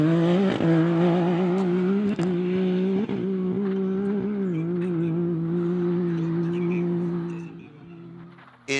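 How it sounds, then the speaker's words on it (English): A Can-Am Maverick off-road side-by-side races in the NORRA Baja rally near San Felipe, its engine a loud, steady droning roar held close and continuous before fading slightly at the end. "There is one of the Can-Am Mavericks."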